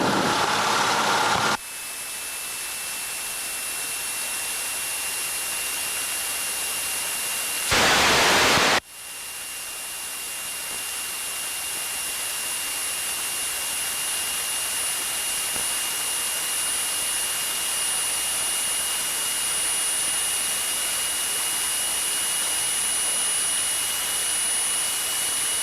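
Aircraft engines roar steadily through a takeoff in Florida, a loud continuous jet-like drone with a high whine, broken by a short burst of louder noise partway through and building gently toward the end.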